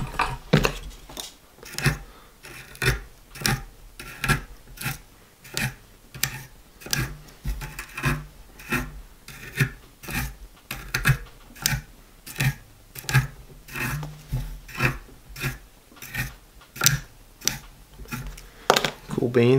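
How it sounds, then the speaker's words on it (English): Rapid, irregular scratchy tick-like strokes as a comb is dragged repeatedly through a bulky synthetic fiber head on a fly-tying tube fly for predator fishing, close and continuous with short pauses. "start beating this whole head to death with a comb and picking it all out"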